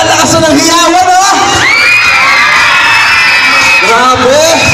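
A large crowd of students from many schools cheers, whoops and shouts loudly at a campus wellness showdown in Bulacan, with high-pitched screams rising and sustained throughout.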